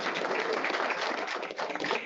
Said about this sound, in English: Round of applause for having this awesome room.